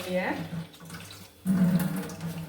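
Chopped liver is rinsed under a running kitchen tap: a steady splashing stream that dips briefly, then surges louder as the pieces are washed.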